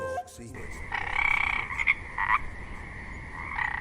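Frogs croak in a natural setting, a close, loud chorus of rattling croaks that rises and falls in bursts and is heard alone without talk.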